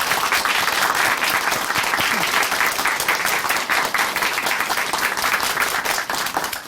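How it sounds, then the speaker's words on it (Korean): A studio congregation at a Korean Christian church TV program bursts into sustained applause, dense and steady clapping that carries on for several seconds without a break. "다시 한번 박수"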